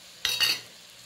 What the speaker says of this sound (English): I will allow this to fry for like another 3 minutes to 4 minutes